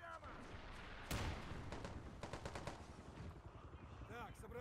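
Gunfire in Men of War: Assault Squad 2, a sharp nearby shot followed by bursts of rapid machine-gun fire, with talk over the battle noise.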